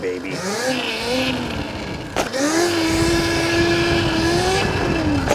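A motorcycle fitted with an upgraded stiffer ETM RTR reservoir rear shock idles and revs nearby, a loud steady engine tone that dips briefly and then rises and holds, with a voice speaking over it.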